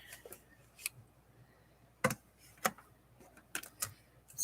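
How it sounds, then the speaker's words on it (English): Scissors snip paper or ribbon while a Peanuts journal is assembled at a desk, several sharp, close, separate cuts spaced irregularly over a quiet background. "Scissors."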